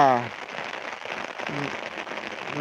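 Steady rain patters across an open hilltop in the Konkan countryside where bullocks are out grazing, a dense continuous hiss with a voice briefly speaking near the start and again midway.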